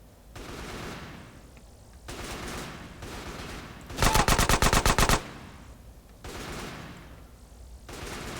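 Gunfire in a video game rings out as a dense automatic burst lasting about a second, loud and close, between stretches of swelling ambient game noise.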